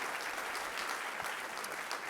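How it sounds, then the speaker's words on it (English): An audience at the IMPACT LIVE 2018 inbound marketing conference gives a round of applause, a steady wash of many hands clapping at moderate distance, with no voices over it. "Let's give Dan a round of applause."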